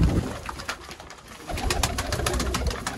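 Pigeons coo and flutter close by, a busy flock of black-faced pigeons with soft overlapping calls and wing rustles throughout.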